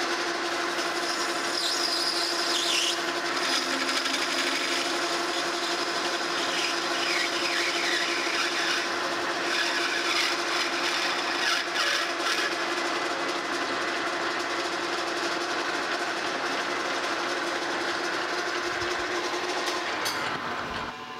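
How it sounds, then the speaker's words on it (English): A lathe parting tool cuts off a machined part for a steam locomotive brake valve, giving a steady, loud metallic grinding drone that runs unbroken for about twenty seconds and stops near the end, with no talking. "Now I'll put on a parting tool and cut this off the length."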